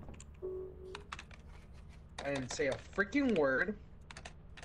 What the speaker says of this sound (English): Your keyboard's so loud.